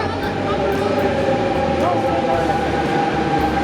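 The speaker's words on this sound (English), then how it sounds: "Oh, double-decker train" A double-decker train stands at a station platform on the way to Disneyland Paris, giving off a steady loud rumble and hum with a faint squeal partway through.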